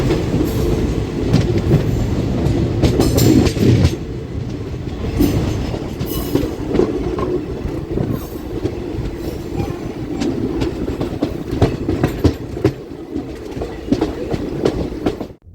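A train heading to Kanyakumari runs along the rails with a loud, close, continuous rumble and rhythmic clickety-clack of the wheels that lasts the whole stretch.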